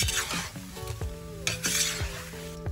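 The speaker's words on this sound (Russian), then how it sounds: "Теперь перемешиваем все." A utensil stirs steadily through thick sauce with oyster sauce in a cauldron over a campfire, scraping rhythmically over a soft continuous sizzle, close and clear.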